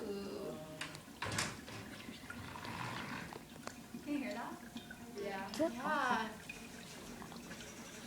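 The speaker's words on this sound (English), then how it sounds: "our dry ice is still sublimating, and it's making bubbles in the water" Dry ice bubbling and fizzing in room-temperature water, a soft, steady gurgling hiss with scattered drips and pops, fairly faint and continuous under brief voices talking nearby.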